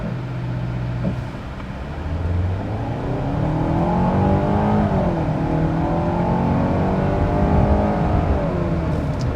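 2022 Hyundai Santa Cruz, front-wheel drive in sport mode, accelerating hard from a brake-boosted launch; engine note climbs steadily as it pulls, heard from inside the cabin without talk.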